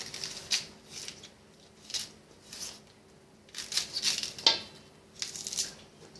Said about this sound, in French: Je vais couper. Un peu de poireau.